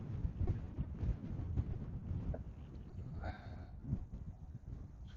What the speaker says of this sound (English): Oh, it's so windy though.